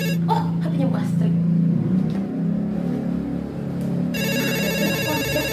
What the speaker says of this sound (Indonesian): Ada telepon, siapa ya?